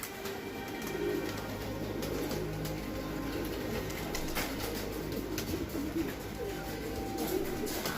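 Pigeons coo softly and repeatedly in a low, rolling rhythm, close by against a steady background hum, with no talking over them.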